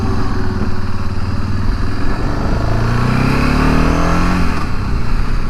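A 2001 BMW F650 GS motorcycle's 650 cc single-cylinder engine pulls out and accelerates, its steady loud drone rising in pitch as it revs up and shifts, heard close without talk.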